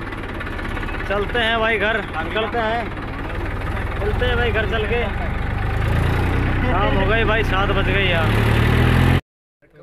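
A tractor engine idles loudly and steadily at close range, with a constant low rumble under a man's speech, then cuts off abruptly near the end.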